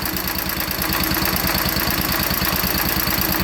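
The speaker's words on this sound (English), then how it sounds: "this engine likes to run with about half choke until it's all the way up to temp" A 1945 Cushman model 54 engine idles on half choke after a cold start, thumping in a fast, regular, loud chug that stays close and steady with no talking.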